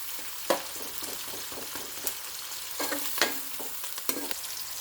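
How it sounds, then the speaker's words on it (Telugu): Chopped onion pieces fry in a pan for a bottle gourd fish curry, a soft steady sizzle broken by several sharp spoon scrapes and clinks against the pan. "ఇప్పుడు ఉల్లిపాయ ముక్కలు, సో ఉల్లిపాయల్ని వేయించుకోవాలండి దూరగా."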